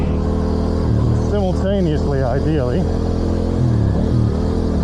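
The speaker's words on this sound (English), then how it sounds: "we're popping that clutch and bringing the revs on" A Yamaha R7 motorcycle engine revs up and down in rising and falling sweeps during race start practice on tarmac, loud and close, with someone talking over the engine throughout.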